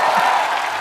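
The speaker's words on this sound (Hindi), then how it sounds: "तालियां में कंजूसी मत किया करो यार" A studio audience at a comedy show gives a short burst of applause, a dense wash of clapping heard only briefly.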